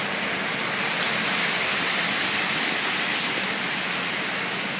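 Tropical Storm Isaac lashing a seaside balcony in West Palm Beach Shores, Florida: a steady, dense roar of wind-driven rain and gusts, loud and unbroken throughout with no voices.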